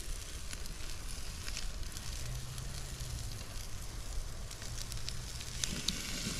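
Redfish basted with plain unsalted butter cooking over open flames, a quiet steady sizzle and fire hiss with scattered small crackles throughout.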